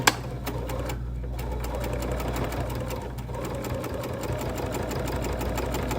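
A sewing machine runs steadily, stitching a seam on a folding wallet. The needle chatters in a fast, even rhythm with a low motor hum underneath, close and continuous throughout with no pauses.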